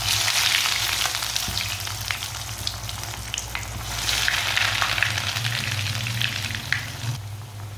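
Kachori snacks frying hard in very hot oil, a dense steady sizzle and crackle that stays loud and close throughout with no one talking.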